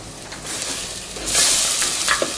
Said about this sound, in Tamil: பேஸ்ட் போட்டது சேர்த்து ஒரு ரெண்டு நிமிஷம் வதங்கட்டும்